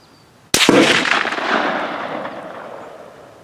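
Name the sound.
Lencac Archangel M1A rifle gunshot at the range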